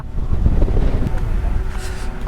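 Strong gusts on Malleshwara hill in Vijayanagara district buffet the microphone with a steady, loud low rumble throughout, with no clear voices.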